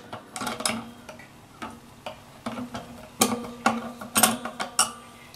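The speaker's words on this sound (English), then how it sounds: "this is a tremolo arm, and this just unwinds like that" Tremolo arm being unscrewed from an EVH Wolfgang electric guitar, giving a quiet series of irregular mechanical ticks and clicks, close and alone.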